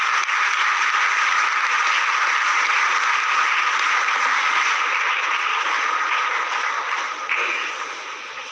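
Sustained applause at a formal Teachers' Day award ceremony welcoming the President, a dense steady wash of many hands clapping for about eight seconds before tapering slightly.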